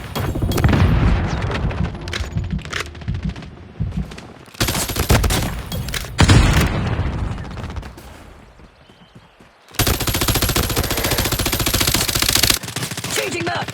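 HG40 submachine gun fire in the mobile shooter Call of Duty Mobile, with dense bursts of rapid automatic shots broken by short pauses, loud and close, with a quiet gap near the middle.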